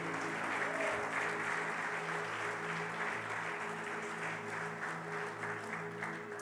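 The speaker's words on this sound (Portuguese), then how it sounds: "Aplauda o nome do Senhor Jesus, irmão." Church congregation applauding during a Portuguese-language evangelical sermon, a steady dense wash of clapping lasting several seconds with sustained musical tones humming underneath.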